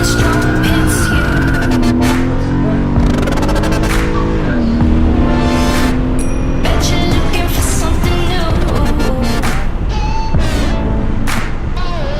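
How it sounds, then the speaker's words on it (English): A car pulls hard through first, second and third gear as its tires chirp in short sharp bursts, over a loud rising and falling engine and dense background sound throughout. "this car chirps in its first, second, and third gear"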